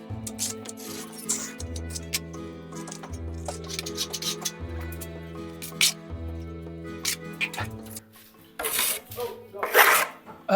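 A plaster coat is trowelled over reinforcement mesh on a water-damaged ceiling, giving close, repeated rasping scrapes and wet smoothing strokes under steady background music.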